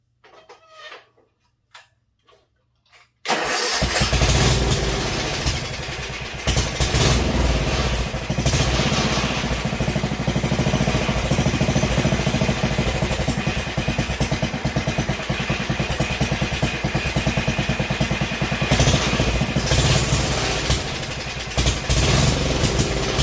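A Sears Custom 10XL garden tractor engine cranks a few times, then catches and runs steadily at a loud, rough idle with a rattling clatter throughout.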